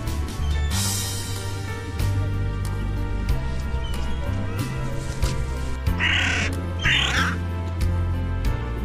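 Crows caw repeatedly on a seaside embankment in Yalta, a few harsh calls rising over a steady, loud wash of ambient noise and a low hum.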